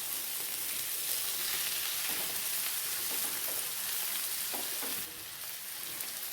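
Potatoes and okra sauté with garlic in a pan, giving a steady, close sizzle with faint scraping taps that settles slightly quieter near the end.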